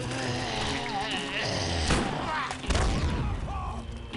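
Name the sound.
barrel exploding in video game Land of the Dead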